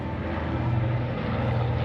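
A North American B-25 Mitchell World War II bomber, the Delaware Aviation Museum's Panchito, flies at an air show at Joint Base Andrews, its steady low propeller-engine drone holding loud and continuous throughout.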